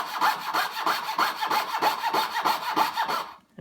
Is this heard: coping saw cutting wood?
yes